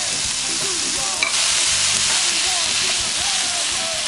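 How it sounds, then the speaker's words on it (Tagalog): Ground beef fries with garlic and onion in a pan while being stirred, a loud continuous sizzle broken by scraping strokes of the utensil, with faint talk underneath. "Halu-haluin na po natin."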